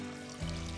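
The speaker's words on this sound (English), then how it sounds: "Take fresh water, cover them amply with water." Fresh water poured over dried beans to soak them, a soft, brief splashing pour that deepens partway through, quiet and alone.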